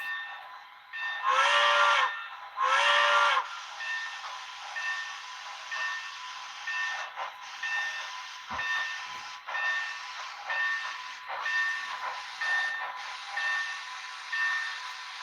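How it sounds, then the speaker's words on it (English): A Rio Grande narrow gauge steam locomotive in a railroad video game sounds two loud whistle blasts, then a steady hissing, rhythmic chuffing with occasional clanks, no voices present. "My favorite Rio Grande narrow gauge locomotive."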